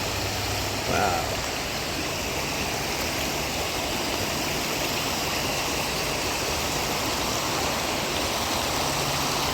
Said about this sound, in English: Creek still flows.